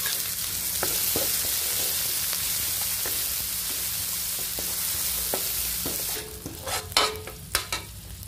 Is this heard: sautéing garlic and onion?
yes